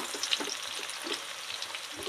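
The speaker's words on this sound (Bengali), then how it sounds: "তো দেখো আলুটা কিন্তু আমার লাল করে ভাজা হয়ে গেছে প্রায়।" Potatoes fry in a pan for a village-style puti fish dish, a soft steady sizzle with faint crackles and stirring scrapes, close by and alone.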